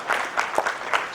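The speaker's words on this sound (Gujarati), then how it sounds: "તાળીઓના ગગડાટથી વધાવી" A crowd claps at a Gujarat BJP executive meeting held at a temple, a short burst of dense, close applause.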